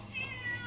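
A cat gives one short, faint meow, thin and slightly drawn out, against a quiet low hum.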